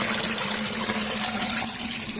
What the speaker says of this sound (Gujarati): ચાલો અત્યારે પાણી આવી જશે.